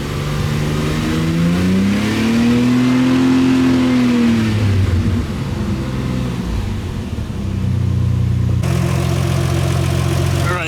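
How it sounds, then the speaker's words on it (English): A car engine fitted with a heat-wrapped exhaust is revved, rising in pitch to a sustained high note, easing back down, then settling into a rough, steady idle, loud and close. "Let's go ahead and rev it a little bit."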